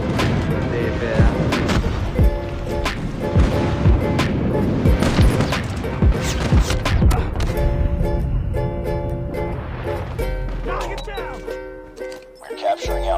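Rapid, loud gunfire and explosive booms from a multiplayer military shooter during an objective-capture match with airstrikes, bursts and heavy blasts dense throughout, with in-game radio callouts and a player's voice talking over the action.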